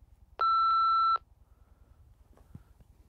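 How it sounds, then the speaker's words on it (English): A single steady electronic voicemail tone after a recorded phone greeting, lasting under a second and ringing clearly on its own, followed by a few faint soft knocks. "Please leave a message after the beep."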